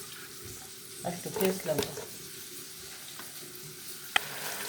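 Oil sizzles in a pan on a home stove as a cucumber curry gets started, a steady frying hiss with a few clinks and stirring sounds, while a person speaks briefly over it.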